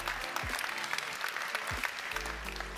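Crowd applause for graduates at a bachelor's graduation ceremony, steady continuous clapping with low rumbling tones and faint voices underneath.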